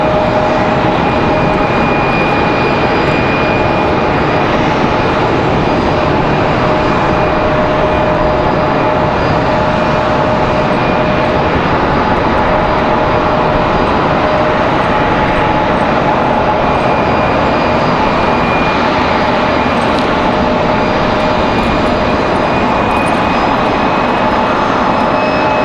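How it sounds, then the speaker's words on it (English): A Delta Airbus A220-300 jet at Raleigh-Durham International Airport gives a steady, unbroken engine roar with a thin whine on top, holding at constant loudness throughout as the aircraft turns on the ground. "Delta, that A220 300 gonna turn in the other side"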